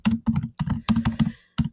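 Keys tapped on a computer keyboard while entering text into a text box, a close, crisp burst of typing in short clustered runs with brief pauses between them.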